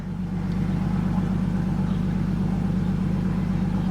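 A Datsun 720 truck engine, lowered, running with a steady low rumble and strong low harmonics after a slow start on a weak battery, close and continuous with no talk.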